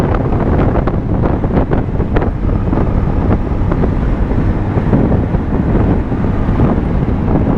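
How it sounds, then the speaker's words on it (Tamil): Strong wind roars steadily and loudly across the microphone during a motorcycle ride on a Yamaha Ray ZR scooter, a constant buffeting rush with no pauses. "காற்று வேறு ஓவராக அடிக்குது"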